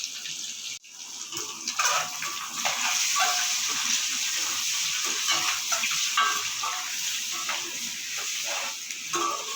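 Masala ingredients sautéing in hot oil for an egg gravy, a close, dense crackling sizzle that swells after a short dip near the start and holds steady, with faint stirring scrapes underneath.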